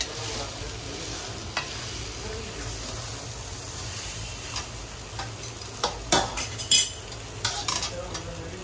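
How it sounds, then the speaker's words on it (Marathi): Fortune biryani rice is stirred and mixed in a pan with a metal spoon over a soft steady sizzle, with scattered scrapes and sharp clinks against the pan growing busier and louder toward the end. "संपूर्ण राईस तो टाकून घेतल्यानंतर एकजीव करून घ्यायचं आहे"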